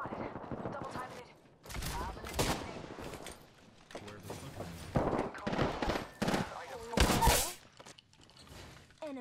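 Gunfire in an Apex Legends match: rapid bursts and sustained automatic volleys crack in and out, loud and near, with quieter stretches between firefights and occasional voices underneath.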